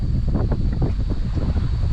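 Strong wind buffeting a boat at sea while rice and sushi are cooked aboard over an open flame, a loud, steady roar pressing on the microphone throughout with no voices.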